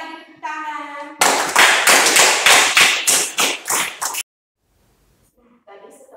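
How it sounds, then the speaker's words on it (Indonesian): A class of children claps in a fast rhythmic burst of about a dozen loud beats after a short stretch of talk, then breaks off into silence before voices return. "Sekali lagi tepuk tangan."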